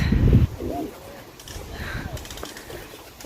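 Pigeons coo softly nearby after a brief loud bump at the start, with faint outdoor ambience and a few low murmuring calls.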